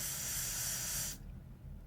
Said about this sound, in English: Okay, I'm going to spray it.